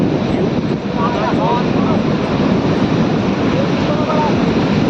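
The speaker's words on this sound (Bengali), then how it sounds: "দেখো কন্টিনিউ ঢেউ অনেক" Continuous sea waves roll in at Mousuni Island with a loud, unbroken surf roar and gusts of wind buffeting the microphone, while people talk over the crashing water.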